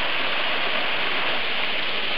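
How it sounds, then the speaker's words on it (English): A waterfall roars as a loud, continuous broadband rush of falling water, steady and close with no other sounds. "And here's Tami at the bottom of this waterfall"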